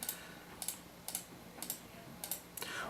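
Computer mouse clicks on a list of orders in routing software, six crisp clicks spaced about half a second apart, close and quiet against a faint room hiss, with no talking.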